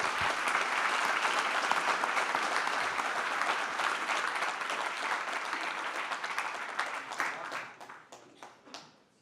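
An audience gives sustained, dense applause at the close of a panel discussion. The clapping stays full for several seconds, then thins into scattered claps as it fades out.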